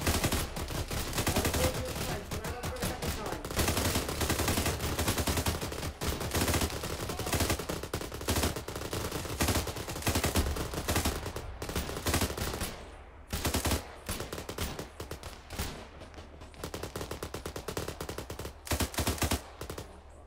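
Rapid machine-gun bursts and rifle shots from the video game ArmA 3 ring out in dense, overlapping volleys for the whole stretch. The firing sounds loud and near, and it thins briefly into shorter stuttering bursts toward the end.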